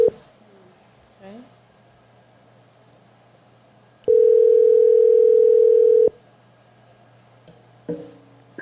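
A steady telephone dial tone holds alone for about two seconds, bracketed by faint clicks and brief murmurs of talk before and after as a phone call is placed.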